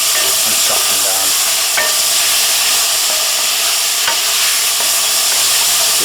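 Salted onions frying on a small Kamado barbecue, a loud continuous sizzle with occasional clicks of stirring, heard close and alone.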